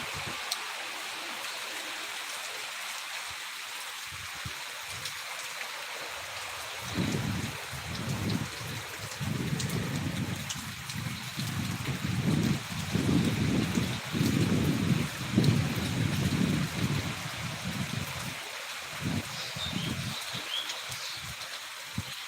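Rain and gusting windstorm in Rajshahi, strong enough to bend a mango tree, give a steady broadband wash that swells louder midway with rushing low gusts, no voices present.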